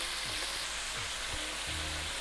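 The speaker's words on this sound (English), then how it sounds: "Now it starts frying." Steady, dense sizzling of lamb frying with onions and spices in a hot pan, with a few soft scrapes and clinks of a utensil stirring.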